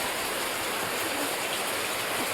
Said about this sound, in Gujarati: વરસાદ હજી ચાલુ છે